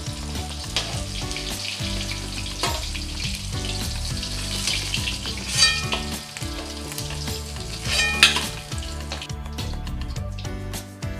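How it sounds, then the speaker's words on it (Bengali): Pieces of shol fish (snakehead) sizzle and crackle loudly in hot oil in a pan, a continuous close frying hiss with occasional sharper spatters and stirring, no voices. "মাছগুলো ভেজে নেওয়া হয়ে গেছে"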